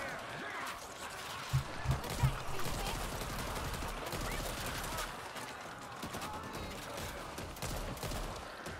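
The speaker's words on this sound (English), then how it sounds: "Firecrackers." Firecrackers popping in the co-op shooter Back 4 Blood: a rapid crackling fusillade of small bangs rattles steadily over a noisy game scene, with a few louder pops standing out near the start.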